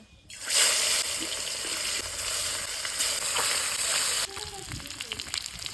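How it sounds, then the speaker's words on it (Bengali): Pieces of shol fish fry in a pan with a loud, steady crackling sizzle that rises sharply at the start and later settles into softer popping and spattering. "এবার আমি মাছগুলোকে ভেজে নেব"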